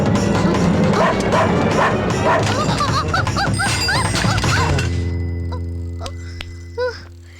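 A dog barks and yips repeatedly in a Tamil film scene, loud and near over busy background sound, then fades to a quieter stretch with one last yelp.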